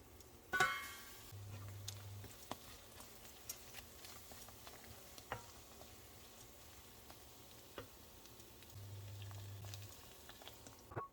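Eggs stirred in a frying pan while making Iranian mirza ghasemi, a soft, quiet sizzle with scattered scraping taps of the utensil across the pan, fairly faint and steady with no talking.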